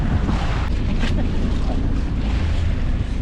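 Strong wind buffets the microphone in a far-off open area, a loud continuous low rumble with gusty swells and no clear speech.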